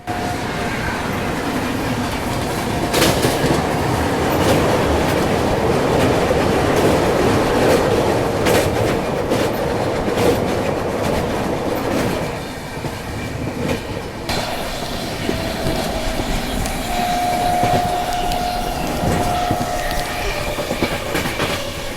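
A Rajdhani express train runs on the rails with a loud, continuous rumble and rhythmic clatter heard from on board, plus a brief thin squeal later on.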